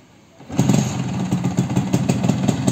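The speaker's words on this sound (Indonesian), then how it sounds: "bersama Bro Wandrong mau dinyalain Vespanya" After a moment of quiet, a Vespa Spartan P200XE scooter engine starts up and settles into a steady, loud putter.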